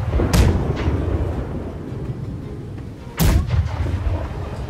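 Ship cannons firing in the naval video game Blackwake, two loud booming shots a few seconds apart, each followed by rumbling decay.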